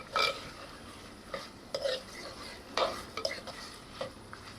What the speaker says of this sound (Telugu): ఇలా కలిపేస్తున్నాం చికెన్ జింజర్ గార్లిక్ పేస్ట్ మొత్తం చికెన్కి బాగా పట్టేసేటట్టు కలిపేసుకున్నాం